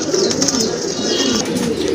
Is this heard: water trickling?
no